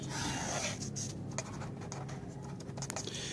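A number being handwritten during a math lesson, a faint, steady scratch of strokes over a constant background hiss, with no voices.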